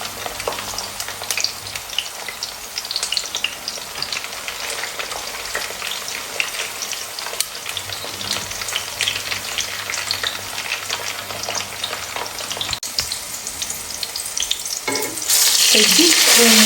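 Sliced zucchini frying in oil in a pan, a steady close sizzle with crackling pops throughout, growing louder and hissier near the end.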